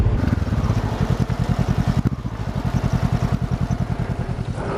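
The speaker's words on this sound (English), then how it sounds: "I'm on an adventure bike, I'll go through the pothole." Honda CB500X adventure motorcycle on the move, a steady rhythmic engine thrum with regular pulsing beats, loud and close, with a brief bump midway.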